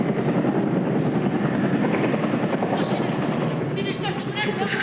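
Helicopters drone overhead with a steady, dense rotor roar that fills the whole clip, joined by faint higher whistles near the end.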